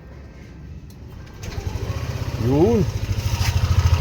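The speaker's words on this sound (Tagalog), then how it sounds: "Testing natin pandarin yung ating motor." A Yamaha Nmax scooter engine cranks and starts after a crankshaft position sensor replacement, catching at about one and a half seconds into a close, rapid, steady idle putter, with someone speaking briefly over it.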